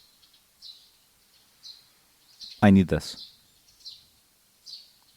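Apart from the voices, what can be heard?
birds chirping in video game ASTLIBRA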